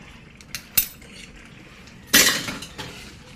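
A spoon stirs chicken BBQ sauce in a pan, with a few light clinks followed by a louder scraping clatter of utensil against metal, close and brief.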